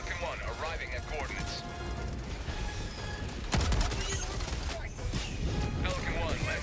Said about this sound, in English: I think they updated the turret AI a little bit to have it stop shooting the ground quite as much.